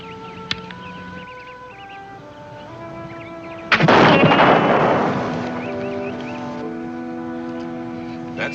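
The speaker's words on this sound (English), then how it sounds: "That's fine shooting, Red Sky." A single loud rifle shot cracks out midway, close and sharp, then decays over a tonal music score that runs under it from start to end.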